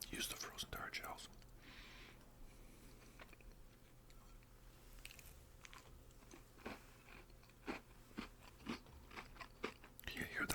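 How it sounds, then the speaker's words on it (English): Sugar-topped tarts made with frozen tart shells are bitten and chewed close to the mic, sharp crisp crunches repeating in bursts amid soft whispering, quiet and intimate. "Can you hear that sugar crunch?"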